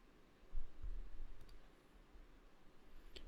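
Faint, sharp clicks of a computer mouse, a quick double click and then a single click a couple of seconds later, over a low room hum with no talking.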